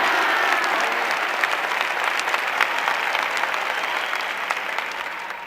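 A congregation at a Catholic gathering led by Padre Léo claps together in a sustained, bright wash of applause that stays strong and slowly tapers toward the end.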